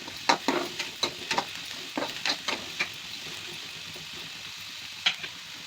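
Cabbage stir-frying in a pan for egg fried rice, a soft steady sizzle broken by a run of sharp spatula scrapes and stirring knocks, close and clear with no talking.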